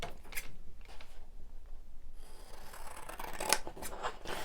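Scissors snip through paper for a handmade spring-themed flip-and-flap craft, a few quiet, close crisp cuts with a faint rustle between them.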